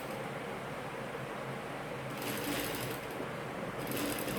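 Sewing machine stitching a chudidar, a steady close mechanical whir that grows louder in two short bursts of faster stitching, with no speech.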